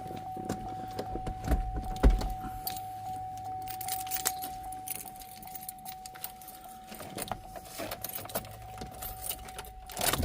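Car keys for a 2009 Chevy Cobalt jangle in a hand, a series of scattered metallic clinks and rattles, close and moderately loud, with faint background hum.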